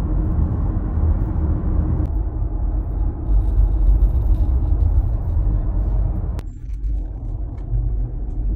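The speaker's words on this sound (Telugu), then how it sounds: "జస్ట్ గ్యాస్ స్టేషన్ కోసం ఇదంతా ట్రాఫిక్." Traffic queued for a Walmart gas station during Hurricane Milton produces a loud, steady low rumble of idling and slow-moving vehicles throughout, continuous and without talk.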